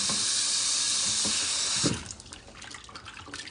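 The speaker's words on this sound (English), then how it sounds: "Get the water in there." Kitchen tap running into a bowl while raw goat meat is washed, a steady close splashing rush that stops abruptly partway, followed by faint drips and handling noises.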